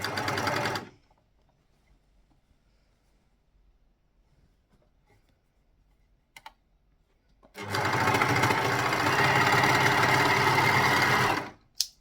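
An overlocker sewing machine runs in two bursts while stitching a rash shirt seam: a short burst at the start, then a long steady whirring run after a quiet pause, loud and close.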